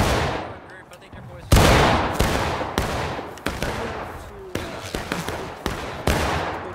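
Musket volley fire in the Civil War game War of Rights, a string of sharp cracking shots at irregular intervals, one loud close report followed by many ringing, echoing shots near and farther off.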